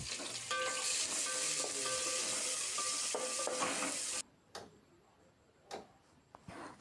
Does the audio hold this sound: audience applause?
no